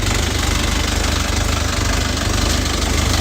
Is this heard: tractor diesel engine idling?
yes